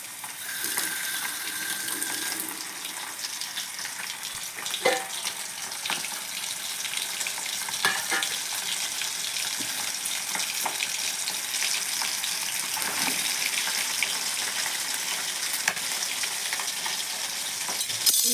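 Pieces dropped one by one into hot oil, frying with a dense, continuous crackling sizzle that stays loud and even throughout, with faint clicks of handling and no talking.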